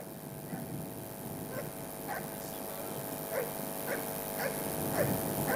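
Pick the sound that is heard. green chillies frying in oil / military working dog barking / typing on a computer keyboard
military working dog barking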